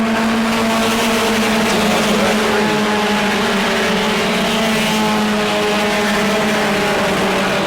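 Bomber class race cars running side by side for the lead at New Smyrna, a loud continuous engine drone with steady sustained tones, the pitch shifting only slightly as the pack passes.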